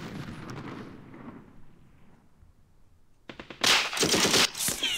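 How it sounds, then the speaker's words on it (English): Bursts of light machine gun fire from a Second Arab-Israeli War battle in the Campaign Series Middle East video game, starting after a low rumbling stretch and erupting loud and dense in the last seconds. "they're opening fire on the light machine gun"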